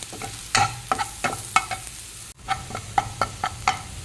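Chilli powder and coriander powder fry in a pan before eggs are added for an omelette, with quick, rhythmic scrapes of a spatula over a soft sizzle and a brief break midway.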